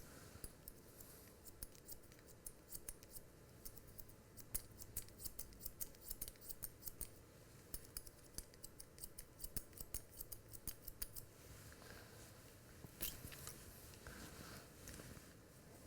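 Scissors snip hair in quick, light, irregular bursts while an undercut hairstyle is shaped, faint and close with brief pauses between clusters of cuts; no talking.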